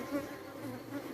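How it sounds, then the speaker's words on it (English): Bees buzz around a beekeeper working without a veil on a first day outdoors, a close, wavering drone that rises and falls over about a second, with no talking. "Now I know it had bees checking me out"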